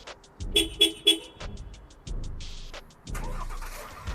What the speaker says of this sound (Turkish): Emri alıp bir süre bekledikten sonra marş emrini yerine getiriyor.